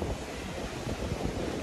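Ocean surf washing in at Praia do Iporanga beach in Guarujá, São Paulo, where a waterfall meets the sea, heard as a dense, constant rushing roar mixed with wind buffeting the microphone, with no voices.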